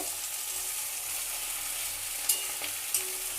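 Shrimp, garlic and onion fry in a pan, giving a steady, close sizzle throughout with two brief sharp clicks of stirring near the end.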